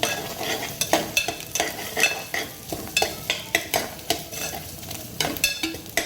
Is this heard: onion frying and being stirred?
yes